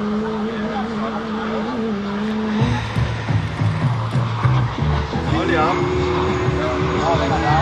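Jet aircraft engine throttling up during a downwind turn before landing at an airfield, a loud steady roar that shifts upward in pitch partway through, with someone talking over it.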